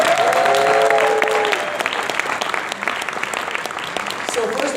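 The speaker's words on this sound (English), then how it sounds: "Let's give them a round of applause." Audience applause fills the room in a steady, dense wash of clapping that eases slightly partway through, with a few voices and a brief tonal call mixed in at the start and end.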